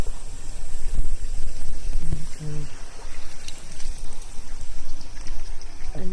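Steady rushing of abundant flowing water in a mountain setting, loud and continuous throughout with a broad wash and a few brief faint tones.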